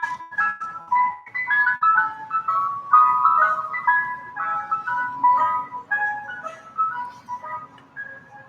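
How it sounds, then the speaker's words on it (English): An ice cream truck's melodic chime jingle plays on a loop, a clear tinkling tune of repeating notes at moderate distance, with faint background rumble and no talking. "Who remembers the ice cream truck?"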